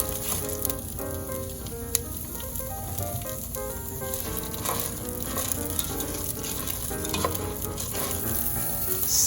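Carrots fry in a pan while vegan comfort food is being cooked, a steady close-up sizzle and crackle with occasional stirring and clinking sounds, and no talking.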